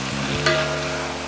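Mushrooms stir-fry in a hot pan, giving a soft sizzle with a brief scrape or toss partway through, over a low steady hum.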